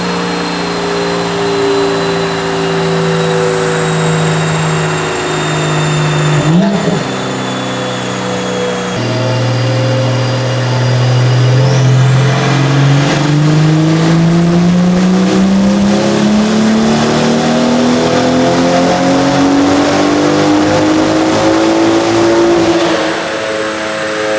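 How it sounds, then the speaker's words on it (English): A big-turbo BMW revs hard on a dynamometer, the engine note climbing steadily through long pulls with a brief dip and turbo whistle, loud and close, with no voices. "We're gonna drive it on the dyno and kind of circulate everything properly."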